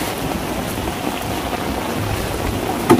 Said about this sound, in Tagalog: Malakas kasi ang ulan